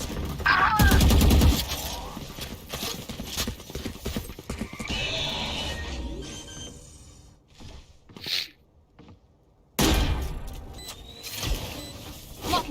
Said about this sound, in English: Sarge just like destroys Leaf there with a headshot